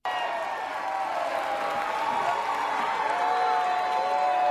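A large crowd greets Donald Trump's arrival with a steady, dense roar of cheering, mixed noise and possible boos, continuous and fairly loud throughout.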